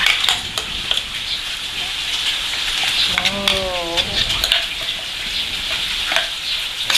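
Sambal chili paste frying with wilted onions in plenty of oil, a steady loud hiss and crackle with stirring scrapes, and a brief voice partway through.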